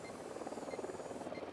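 A helicopter in the video game Ghost Recon Wildlands, a low steady rotor drone with a faint whine above it, heard at moderate distance and fairly quiet, with no voices.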